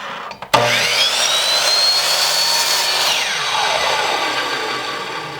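A power saw rips through a walnut pen blank, starting abruptly with a loud, steady whine that holds for about five seconds, its pitch sweeping slightly as the cut bites into the wood.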